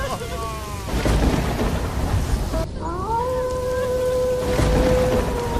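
Heavy rain pours steadily while thunder rumbles and cracks, loud and close; partway through, the rumble drops out briefly before the downpour resumes with a long rolling peal of thunder.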